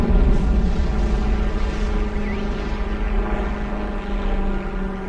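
A friendly propeller plane in the World War II shooter Heroes and Generals drones steadily overhead, a loud continuous engine hum that holds throughout with no talk.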